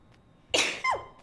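A single close sneeze, a sharp burst followed by a quick falling tail, heard alone with no talk.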